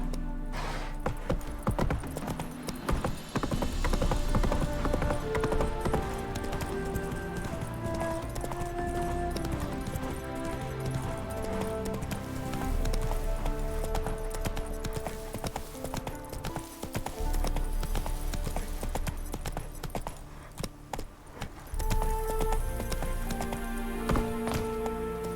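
Horse hooves clip-clopping at a steady run in The Witcher 3, rhythmic and close beneath a dense, loud orchestral score, with a snort or whinny surfacing briefly.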